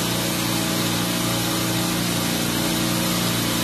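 A refrigeration compressor, number two on a suction group, runs with a steady, loud, dense mechanical hum and broadband whir that stays constant, close and uninterrupted.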